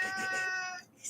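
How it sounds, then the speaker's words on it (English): A pet cat named Murray gives one drawn-out, close and loud meow that trails off near the end, with no talking over it. "So yeah. Cat. Meow."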